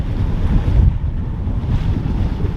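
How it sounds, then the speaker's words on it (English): Strong northwest wind buffeting the microphone at a waterside spot on a cold, wet morning, a steady loud rumbling roar with gusts and no voices. "really strong wind now coming from, looks like it's coming from the northwest, that way."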